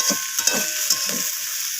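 Mixed vegetable curry sautéing in oil, cooked down until the oil separates: a steady hiss of frying with several short scraping stirs of the spoon, close and moderately loud.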